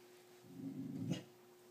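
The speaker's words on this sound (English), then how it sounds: "It's a big boy bark." A big dog gives a low, rumbling growl that swells into a short gruff bark, faint and close, with no talking over it.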